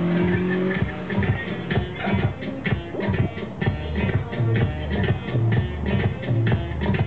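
A novice modified B autocross car making its timed run at the Philippine Autocross Championship at SRP, Cebu, engine revving and dropping in steady cycles with tire noise, loud and continuous throughout.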